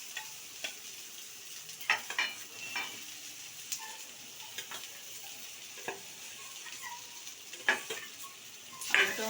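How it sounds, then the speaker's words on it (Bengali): Boiled potatoes are sautéed with spices in a pan, with a steady sizzle and a scatter of scraping, stirring clicks from a spoon against the metal. "আলুটাও আমি একটু মশলার সাথে কষিয়ে নিচ্ছি"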